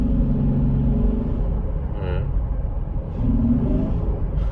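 Cabin rumble of a 2019 Honda Pilot fitted with an AEM intake, the engine pulling under light throttle and downshifting; a steady low drone with gear shifts, heard from inside the car, with a voice speaking over it.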